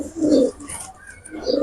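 A pair of pigeons, a female and a male high-flying breed, coo close by in low, throaty rolling bursts, one at the start and another near the end, with faint chirps between.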